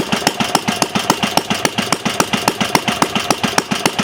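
A small glass-head Briggs gasoline engine running on only one cylinder chugs steadily, up close, with evenly spaced sharp firing pulses and a rough, uneven running note.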